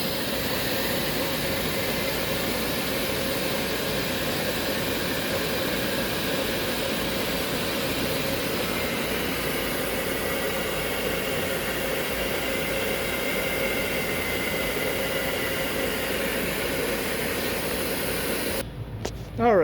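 An LG LVC900B Kompressor vacuum cleaner runs steadily with its power head switched on, giving a loud, continuous broadband whoosh and motor drone that holds nearly unchanged until a brief clunk right at the end.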